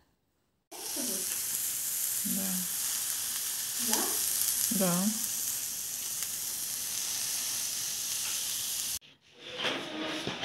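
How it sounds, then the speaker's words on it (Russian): Kupaty sausages sizzle on a grill frying pan, a loud, even hiss of frying that starts abruptly after a moment of silence and runs steadily before cutting off near the end, with a few short voiced sounds over it and a brief spoken word. "ставлю купаты жарить на сковородке гриль"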